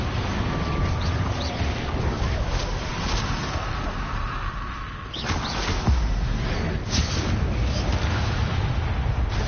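Confringo explosive spell in Hogwarts Legacy, heavy booming blasts and rumbling impacts over a loud, continuous stretch of combat noise, with a sharp new burst about midway.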